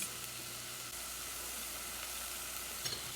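Korean tofu soup (sundubu jjigae) being stirred in a pot just after soy sauce goes in: a faint, steady simmering hiss with a soft knock of the spoon near the end.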